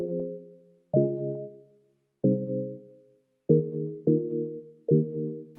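A synth pluck from the Morphine plugin plays a slow series of chords, six separate hits with gaps between them, each one decaying quickly, with nothing else underneath.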